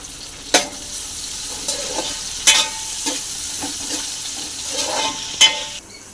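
Tomato frying in a kadai with browned aromatics for egg fried rice: a soft steady sizzle broken by several sharp spoon scrapes and clacks against the metal, near and alone.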